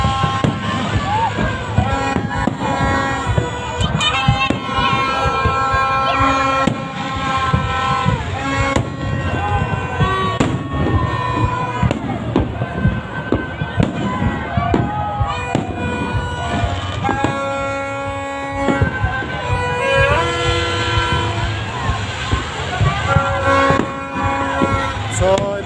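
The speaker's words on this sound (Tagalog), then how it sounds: "Dalawang fireworks po yung nagaganap dito" Fireworks crackle and boom continuously at the Mall of Asia New Year countdown, with rapid bursts and pops layered over a large crowd's murmur and music, loud and close throughout.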